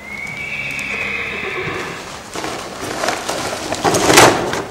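A horse whinnies loudly, a long rising neigh, followed by shuffling hoof sounds and outdoor noise, with a louder burst near the end.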